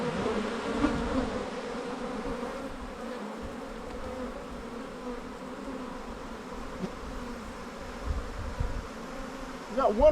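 A dense, continuous hum of honeybees flying around an open hive during comb cleaning, steady and close with a few louder bumps near the end.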